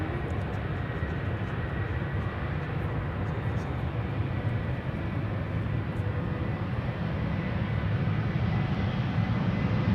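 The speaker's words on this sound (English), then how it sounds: "that's the 747 taking off from center to Dubai" KLM Cargo Boeing 747 taking off from Amsterdam Schiphol bound for Dubai, a loud continuous low roar of engines that stays steady throughout.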